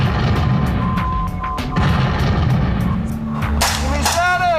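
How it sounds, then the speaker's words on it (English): Friendly artillery fire coming in during a military field exercise, loud booming blasts and crashes in the background beneath continuous shouting and talking, with a whistling sweep near the end. "we got artillery coming in friendly"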